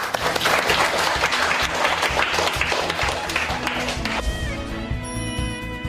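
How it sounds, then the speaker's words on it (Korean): A classroom of students applauds together, a dense, steady burst of clapping that fills the room before tapering as music-like tones enter near the end. "다 같이 그런 의미에서 박수 한번."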